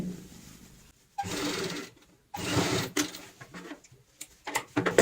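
A sewing machine stitches the seam of a designer pillow cushion cover in several short, loud bursts of rapid mechanical whirring, separated by brief pauses as the stitching stops and restarts.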